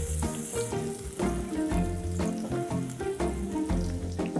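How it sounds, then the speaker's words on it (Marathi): Green garlic goes into hot oil and sizzles loudly and close, with a crackling frying texture broken by rhythmic stirring bursts, and no one speaks. "आता आपण पातीचा लसूण ह्या तेलामध्ये घालूया. छान तेल तापलेलं आहे"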